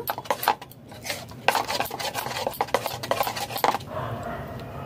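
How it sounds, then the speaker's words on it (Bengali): A spoon stirs and scrapes through lentil pakora batter mixed with asafoetida, turmeric, salt and ginger paste in a bowl, making rhythmic clinking and wet slapping strokes that ease off toward the end, with no voices. "হিং সামান্য পরিমাণ, হলুদ গুঁড়ো সামান্য পরিমাণ, লবণ, আদা বাটা ভালো করে মিশিয়ে নেব"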